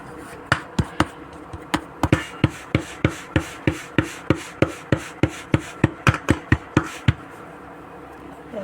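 Bhakri flatbread dough patted by hand on a board, a steady run of about twenty sharp, close slaps at a brisk even rhythm, then a pause near the end.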